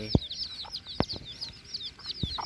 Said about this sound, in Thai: บางคนเรียกว่าไก่